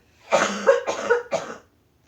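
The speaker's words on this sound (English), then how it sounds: "while she has a time and a chance to cough" Three harsh coughs in quick succession, close and fairly loud, with no talking around them.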